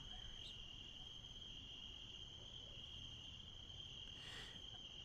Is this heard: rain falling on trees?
no